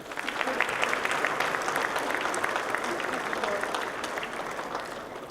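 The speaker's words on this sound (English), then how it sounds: "can you please give a warm round of applause to your family and friends who have come to support you?" At a 2018 chief's awards ceremony, an audience applauds honorees' family and friends with a warm, dense, continuous wash of clapping that holds steady throughout.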